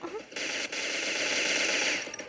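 Sustained automatic gunfire from an online team shooter video game, a dense continuous rattle of rapid shots lasting about two seconds after a brief quieter start, with a faint voice in the background.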